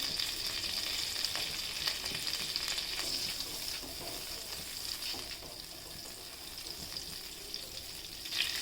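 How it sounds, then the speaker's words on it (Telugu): Butter melts and sizzles in a pan as the base for a dhaba-style butter chicken gravy, a faint, steady hiss with light crackle close by, no voices. "పాన్ పెట్టేసుకొని అందులో బటర్ వేసుకోండి."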